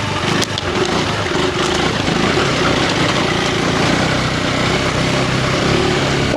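KTM 390 Enduro R motorcycle held in second gear with a little clutch slip while riding off-road over rough, chattering ground; a loud, steady engine drone runs close and continuous throughout.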